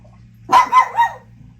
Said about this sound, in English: which caused my dog to bark